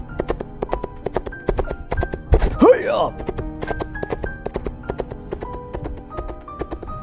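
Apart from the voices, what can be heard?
horse hooves clip-clop sound effect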